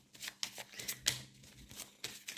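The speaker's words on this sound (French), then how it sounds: "Tu tires les cartes avec maman?" Playing cards being shuffled and drawn for a tarot-style reading, a quick series of soft riffles and flicks, close and fairly quiet, with no voices.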